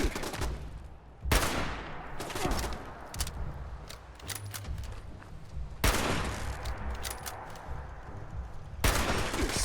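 Repeated bursts of gunfire from raiders in Fallout 76, loud volleys and rapid strings of shots with short gaps between them, over a steady rumbling game background and no talk.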